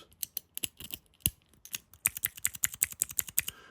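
Hollow-capped keyboard fidget keys clicking repeatedly, with sharp bright clacks scattered irregularly then speeding into a fast, steady run of close, crisp clicks.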